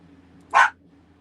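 A single short, sharp dog bark sounds close and loud against a quiet indoor background with a faint low hum.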